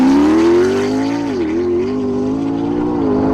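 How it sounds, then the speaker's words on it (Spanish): A Bugatti Chiron with its W16 engine rumbles and revs in a steady, loud, sustained roar, the pitch rising and dipping slightly as the throttle varies. "Sí, es un Chirón. Es un Bugatti."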